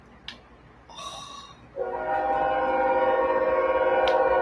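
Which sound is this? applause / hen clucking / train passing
train passing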